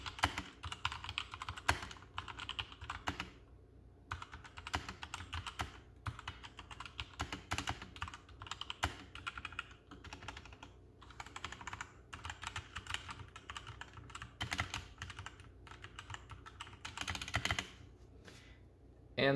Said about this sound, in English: The first part of the sound test will be kind of a normal typing experience